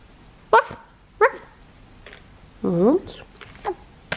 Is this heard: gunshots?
no